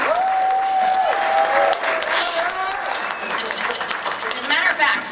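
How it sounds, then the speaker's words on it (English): An audience at a December 2012 high school jazz concert applauds an expanded eight-piece trumpet section, steady clapping filling the room throughout with a few whistles and some cheering over it. "Give them a round of applause."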